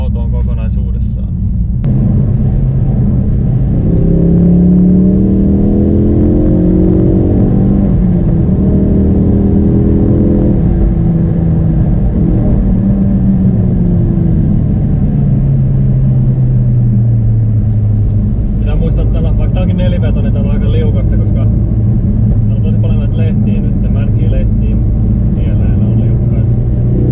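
A Ford Focus RS drives winding roads with a steady engine drone that swells and falls as revs rise through bends, while someone talks over the cabin noise throughout.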